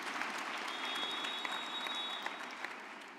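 A graduation ceremony audience applauds in a steady, even wash of distant clapping from a large hall, holding at a constant level throughout.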